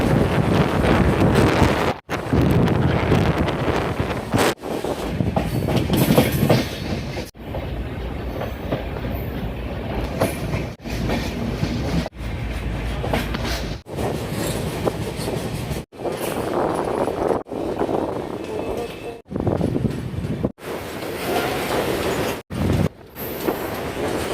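Kota Patna Express passenger train running on the rails, a loud steady rumble with wind noise on the microphone and rhythmic clickety-clack, broken by several brief dropouts throughout.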